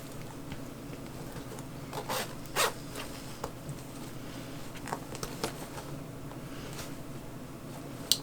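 A zipper on a Coach Cassie handbag pocket is slowly worked open in short rasping bursts, close up and quiet against a steady low background hum, with no one talking.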